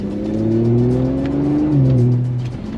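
An ABT-tuned 530 hp Audi RS5 working through tight downhill bends, a loud steady engine drone with tones that rise and dip as throttle changes, heard close and continuous.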